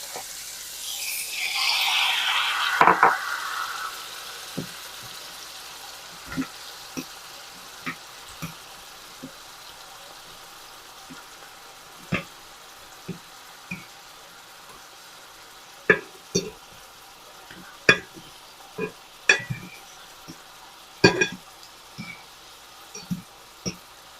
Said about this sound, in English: let's start to turn them. And the garlic is getting a little bit browned.